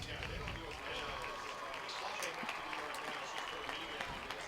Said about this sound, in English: he's getting a clap